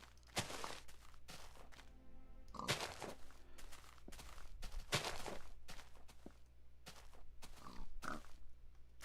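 Minecraft pigs oinking close by: repeated short grunts spread at irregular intervals, with crunching footstep sounds in between.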